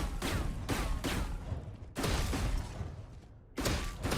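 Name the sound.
quick pistol shots fired in the video game Valorant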